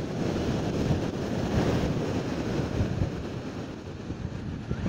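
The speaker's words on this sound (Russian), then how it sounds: "море разговаривает и рокочет" Stormy sea surf rumbles on a beach in Nha Trang, a dense, continuous roar of breaking waves with wind buffeting the microphone, loud and steady with no voices.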